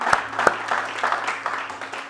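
A church congregation claps to acclaim Jesus, with a few sharp early claps followed by a scattered, moderately close round of applause. Voices and a low steady hum sit underneath.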